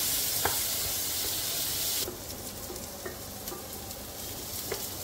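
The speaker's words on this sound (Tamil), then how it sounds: "நம்ம வச்ச தக்காளியை கொட்டிடும். லைட்டாக வதங்கிடுச்சு." Tomatoes frying in a pan, a steady close sizzle with occasional soft stirring clicks, the hiss dropping slightly partway through.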